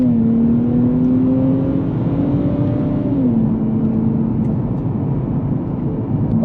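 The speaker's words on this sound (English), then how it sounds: "We're going to go ahead and take this thing for a spin and see if this automatic is holding up to what it's expected to be." A 2024 Nissan Z NISMO with an automatic gearbox cruises in standard mode, its engine a steady close drone with a smooth pitch rise then a dip as it shifts, continuous and without talk.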